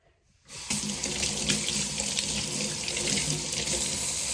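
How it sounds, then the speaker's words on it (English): Tap water runs steadily into a sink as a hand is washed beneath it, starting abruptly after a short quiet moment and continuing as an even, close, moderately loud splashing hiss with no talk. "I'm going to wash this hand."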